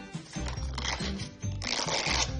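Scissors snip paper to cut fluffy feathers for a paper dove craft, giving a steady run of close, crisp rustling and crunching cuts with no talking.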